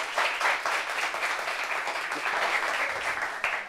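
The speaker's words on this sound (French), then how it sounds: "Applaudissements pour vous" A studio audience at a French-language talk show gives steady, close applause that lasts several seconds, a dense even patter with no voices over it.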